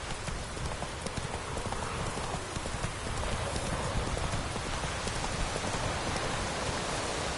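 Geralt's horse Roach from The Witcher 3 galloping through rain, with quick steady clip-clopping hoofbeats over a constant wash of rainfall hiss.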